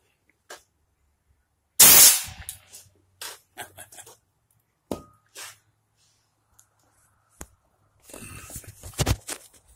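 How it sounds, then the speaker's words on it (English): A homemade air rifle fires one sharp, loud burst near the start, followed by scattered soft knocks, handling rustles and a brief noisy flurry toward the end. "Scott, shoot."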